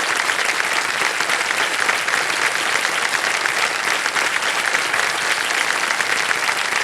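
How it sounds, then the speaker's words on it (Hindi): Studio audience on the KBC season 16 game show breaks into loud, dense applause that holds steady for about seven seconds with no voices over it. "तालियां बज जाए इनके लिए।"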